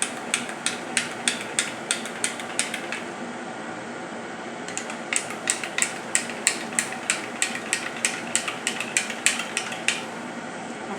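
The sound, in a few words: stirring and mixing the raw mango panna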